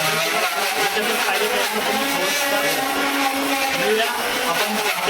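A kitchen mixer grinder runs without a break while grinding garlic chutney, making a loud, steady whirring motor drone that holds the same level from start to finish.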